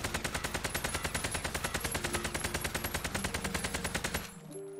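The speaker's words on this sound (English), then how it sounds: "So here we have the AK-47 from about 10 meters out." An AK-47 fires full-auto in Call of Duty Cold War Warzone from about 10 meters out. A sustained, evenly paced burst of loud gunshots runs for about four seconds and then stops abruptly.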